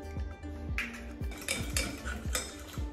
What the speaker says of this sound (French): on mélange bien comme il faut jusqu'à avoir quelque chose d'assez liquide